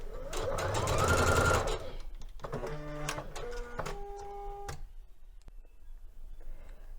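A domestic sewing machine backstitching while a Liberty London Florence palazzo suit is sewn: a fast whirring run, then several shorter stop-start bursts of motor hum and needle ticking, close and clear, with no talk.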